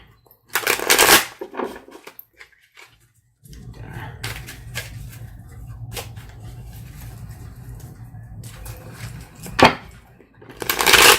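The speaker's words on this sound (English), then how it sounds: "So we'll do a little bit more shuffling." Papery riffling and soft flicks of tarot cards being shuffled in short bursts, close by, with a low rumble underneath and some louder rustles near the start and end.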